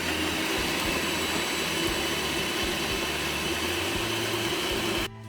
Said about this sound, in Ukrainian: Починаємо збивати наші білки.